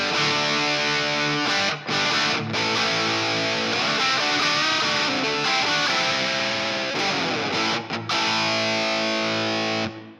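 A heavily distorted electric guitar plays sustained, gritty chords through an amp with a touch of reverb, without the MOOER Mod Factory MKii pedal engaged, loud and continuous with a couple of brief pauses.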